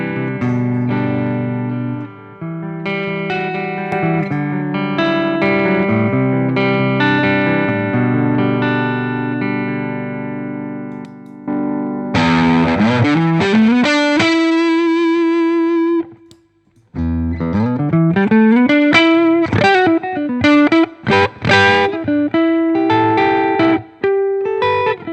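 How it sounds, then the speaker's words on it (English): Electric guitar runs through a Boss OD-3 overdrive pedal used as a clean boost, playing chords and then bending sustained lead notes with vibrato, loud and alone, with a brief pause between phrases. "using a clean boost this way means that not all your boosted like lead tones have to be heavily overdriven"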